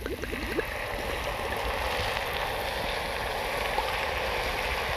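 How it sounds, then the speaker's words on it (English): About two cups of Burgundy wine poured into a bubbling pot of venison ragout, a steady gurgling splash that runs continuously and close, moderately loud, with no talk. "we're going to add, about 2 cups of Burgundy wine"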